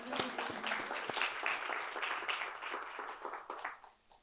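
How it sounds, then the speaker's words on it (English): Audience clapping in a room, a steady patter of applause from a modest crowd that fades out toward the end. "Well, we can clap for that."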